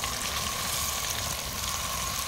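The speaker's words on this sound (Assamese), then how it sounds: "এতিয়া মই 3 মিনিট ভাজি দিম" Cauliflower pieces fry in hot mustard oil with five-spice and dried red chillies, giving a steady, dense sizzle that runs unbroken at close range with no talk.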